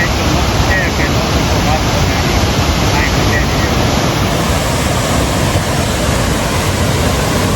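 Jamjir waterfall at Jamvala in Gir, Gujarat, gives off a loud, dense, unbroken roar of falling water that fills the whole scene.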